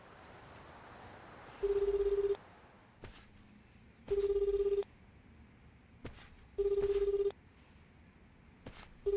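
A phone tone from the video game Like a Dragon: Infinite Wealth sounds in repeated steady beeps, each lasting under a second with regular pauses between them, clear and without talk over it.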